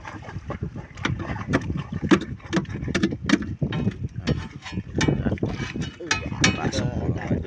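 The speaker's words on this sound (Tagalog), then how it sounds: "kaya pala umingay yung tambutso namin" A wooden outrigger fishing boat's engine runs with a noisy, rough exhaust, a steady rumbling chug with crackling bursts and wind buffeting, while someone talks over it.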